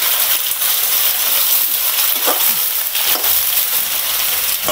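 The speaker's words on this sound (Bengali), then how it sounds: "নিজে পেঁয়াজটা দিয়েছি, পেঁয়াজ ডালার পরে পেঁয়াজটা ভাজা হবে" Onions frying in hot oil in a pan for a village-style chicken curry, a loud, dense, unbroken sizzle up close with a few faint stirring scrapes, no voices.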